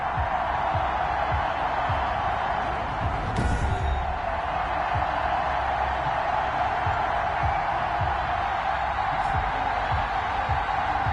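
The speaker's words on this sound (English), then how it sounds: "Somehow this place got even louder a short time ago as the Falcons were introduced to this sellout crowd." A loud sellout stadium crowd roars in a steady, dense wash at an NFL game between the Atlanta Falcons and Seattle Seahawks, continuous throughout with no clear breaks.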